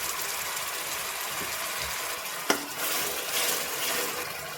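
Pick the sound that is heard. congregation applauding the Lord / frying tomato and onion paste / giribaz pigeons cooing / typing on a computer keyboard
frying tomato and onion paste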